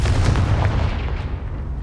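A Confringo blasting spell explodes in the Hogwarts Legacy video game with a loud, booming detonation whose deep rumble rolls out and fades over about two seconds.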